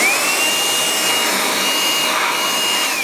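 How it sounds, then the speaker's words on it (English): A BLACK+DECKER Dustbuster cordless handheld vacuum runs steadily and loudly up close, a constant whirring motor hiss with a thin high whine holding through the whole stretch, no voices. "I like the cordless vacuum. So you just pick up and get the dirt."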